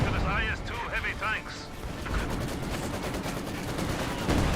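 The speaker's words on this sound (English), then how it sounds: "Panzerwerfer Barrage, maybe trying to strike the SU-76" A Panzerwerfer rocket barrage in the video game Company of Heroes 2: a rapid series of whooshing launches early on, then rumbling impacts and continuous battle noise, with a commentator talking throughout.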